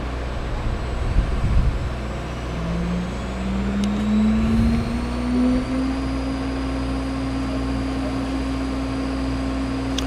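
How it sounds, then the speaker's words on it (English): Motors of a Weinig PowerMobile woodworking moulder spin up one after another, a steady hum rising in pitch and settling into a loud, continuous whine over machinery rumble. "So as I said, we'll start the motors up kind of slow."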